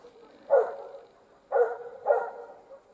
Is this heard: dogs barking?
yes